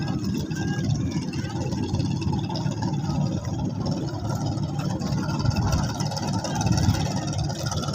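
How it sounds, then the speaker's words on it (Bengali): Boat engine running on a river at Palashi ghat where three rivers meet, a steady low rumbling drone heard at a distance beneath wind and water noise, holding an even level throughout. "ওইদিকে নৌকা যাচ্ছে, নৌকার শব্দ।"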